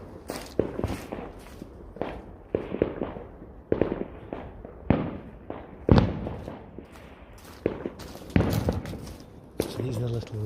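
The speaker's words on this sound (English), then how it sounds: "So these are the little impact rockets. Here we go, impact." Small impact rockets let off on Bonfire Night, a string of sharp, fairly close cracks and bangs at irregular intervals, with people talking between the bursts.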